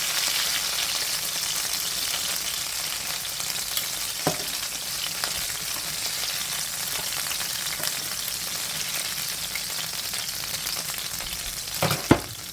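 Food frying in a pan gives a steady, moderately loud sizzle throughout, with a few brief clinks near the end.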